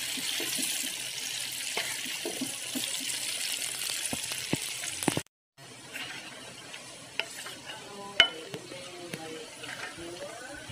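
Eggplant frying in a pan is stirred with a utensil, making a soft sizzle under repeated scraping clinks and taps. The sound breaks off briefly midway, then quieter sizzling and scattered clicks resume.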